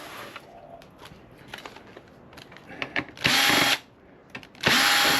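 A power drill backs screws out of scrap switches in two short, loud whining bursts separated by a pause, with quieter handling clatter and faint rustling before them.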